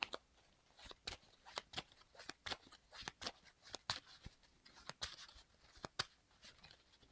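Cards from the Marvel Champions card game being shuffled by hand, a quick series of soft, crisp riffling bursts repeating at an irregular, busy rhythm, close and fairly quiet.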